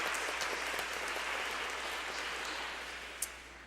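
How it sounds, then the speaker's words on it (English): Audience at a clean energy forum clapping for a guest being introduced, a dense even patter of many hands heard from across the room, sustained and gradually thinning, with one sharper clap near the end. "If you could give her a round of applause."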